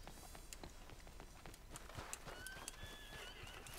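Horse hooves clip-clop in Red Dead Redemption 2, a quiet, steady run of close hoofbeats over a soft outdoor background, with a brief whinny-like tone near the end.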